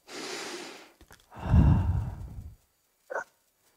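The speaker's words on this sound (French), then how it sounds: "Une respiration." A single deep breath: a long airy inhale followed by a heavier, louder exhale, then a brief faint sniff near the end, alone in a quiet room.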